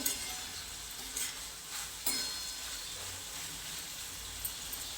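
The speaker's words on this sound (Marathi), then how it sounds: "आता हे सर्व एकत्र करून घ्यायचे" Peanut powder is stirred into tomato chutney frying in a pan, with a soft continuous sizzle and a few sharp scraping clinks of the spoon against the pan, heard close and alone.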